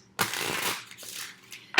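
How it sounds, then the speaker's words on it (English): Tarot cards being shuffled by hand, a few quick, close, rustling bursts of riffling paper with brief pauses between them and no talk. "So I am asking about Libra in love when I'm shuffling."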